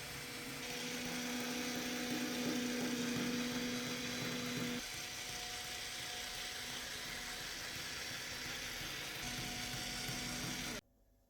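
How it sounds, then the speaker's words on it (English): An electric fabric cutter slices through stacked vest pattern pieces and batting with a close, steady motorized whir. The pitch shifts partway through, and the whir cuts off abruptly near the end. "This is much easier to cut all together since I have an electric cutter."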